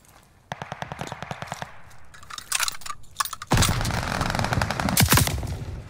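MP40 submachine gun firing in Call of Duty: Vanguard, rapid bursts of sharp close shots, first a quick rhythmic string, then scattered bursts, ending in a dense loud volley over heavy game noise.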